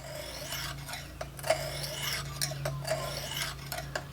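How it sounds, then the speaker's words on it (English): A knife drawn across the coarse stone of a guided sharpening system, giving quiet repeated scraping strokes about every half second, close and soft, with no talking. "since this knife has not previously been sharpened with this sharpener, like I said, you'd start with the coarse"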